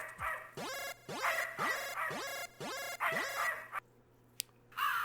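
Alice, a dog in a video game, barks in a steady series of about six sharp, loud barks with brief gaps, then a quiet pause broken by one click before another bark-like burst starts at the end.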